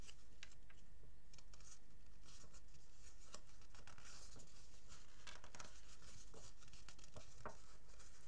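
Paper creased into folds by fingers, a fine 3 mm fold, with soft dry crackles, rubs and light taps close by, scattered and quiet.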